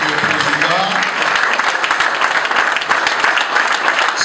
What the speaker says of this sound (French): Ces applaudissements qui n'en finissent pas